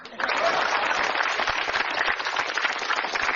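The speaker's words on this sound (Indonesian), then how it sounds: "Tepuk tangan dong" Dense audience applause at an Indonesian stand-up comedy show, a steady loud wash of many hands clapping that starts abruptly and holds without a break.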